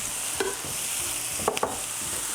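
Sausage, mushroom stems and garlic sizzle steadily in a hot pan, with a few scraping stirs of a utensil cutting through the constant, fairly quiet frying hiss.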